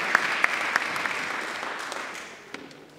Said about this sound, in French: You may give a round of applause to the Lord Jesus Christ.